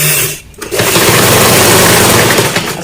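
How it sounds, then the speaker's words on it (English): A sewing machine stitching a shirt sleeve for a crop top, running loud and steady after a brief pause, with a fast continuous whirring hum close to the microphone. "As you are sewing, you'll be removing your pin as you are going."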